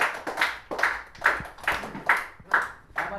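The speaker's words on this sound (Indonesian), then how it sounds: "Tepuk tangan untuk semuanya." Students in a classroom clap together in a rhythmic, patterned burst, with about seven evenly spaced group claps in quick succession. The clapping is close and moderately loud, with faint voices underneath.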